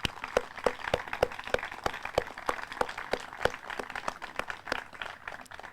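Audience applause at an outdoor trail dedication ceremony, a scattered, moderately loud burst of individual hand claps with fairly distinct beats, no talking over it.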